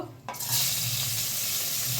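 Cut thick green chillies hit hot oil already tempered with black cumin, bursting into a loud, steady sizzle after a brief quiet start, with faint stirring underneath and no voices.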